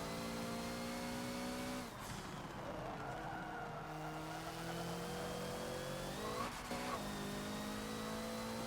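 A Hoonigan Focus race car at Lime Rock in the Forza racing game, its engine droning and shifting in pitch as it revs, with tyre squeal and brief sharp breaks in the sound near the start and toward the end.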